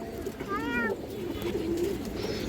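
Indian high-flying Kaldom pigeons, a soft low cooing phrase with a brief higher wavering call over faint background noise.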